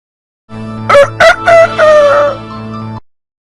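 A rooster crows loudly and close by, one full cock-a-doodle-doo with sharp opening notes and a long drawn-out final call.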